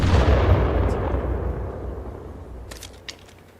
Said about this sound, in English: Incoming frag.